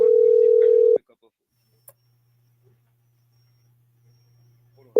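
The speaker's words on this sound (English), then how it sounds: "Let me see if Karen will pick up her" A telephone call being placed produces a loud, steady single-pitch tone for about a second, then near silence with faint line hum, before the tone starts again at the very end.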